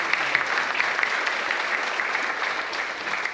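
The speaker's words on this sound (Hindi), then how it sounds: "एक बार जोरदार ताली होनी चाहिए।" Hearty applause from an audience at an IMC business gathering, a continuous even wash of many hands clapping with no voices over it.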